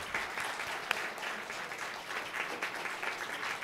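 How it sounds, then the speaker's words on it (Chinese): A church congregation at a weekly service applauds newly hired staff, a steady, moderately distant wash of many hands clapping together for a few seconds. "我们用掌声来欢迎他们。"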